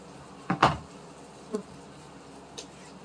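Honey bees at an opened hive box on a porch, heard as a few short buzzing passes: two quick ones close together near the start, then fainter brief buzzes, over a quiet background.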